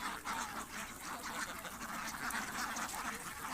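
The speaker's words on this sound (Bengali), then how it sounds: "দেখতে পাচ্ছেন খুবই সুন্দর হাঁসগুলো" Peking ducks kept indoors at a duck farm quack in a dense, continuous chorus, many birds calling at once at close range with no pauses.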